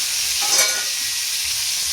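Eggplant sautéing in a pan for masala vangi, a steady broad frying hiss with a brief soft scrape of turning midway, no voices.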